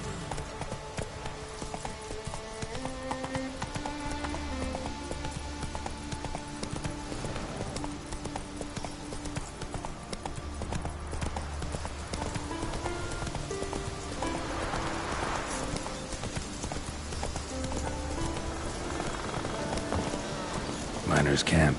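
In The Witcher 3, a horse's hooves clip-clop in a steady, repeating gallop rhythm over a continuous wash of ambient game noise, moderately close, with no talk over them.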